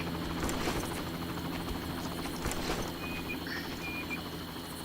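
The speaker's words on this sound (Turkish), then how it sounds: "Helikopter de var." Helicopter in the Far Cry video game gives a steady, moderately distant rotor drone beneath ambient jungle noise, with insect-like buzzing and occasional faint chirps over the continuous hum.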